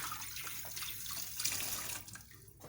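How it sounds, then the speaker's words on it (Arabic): A small onion is washed under a running kitchen tap, with water splashing close and continuous for a moment and no one talking. "غادي نغسل البصيله."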